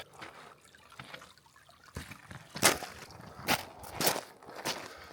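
Small waterfall in a state forest, a soft trickling and splashing of water with a few louder bursts of rushing flow, fairly close and with no voices.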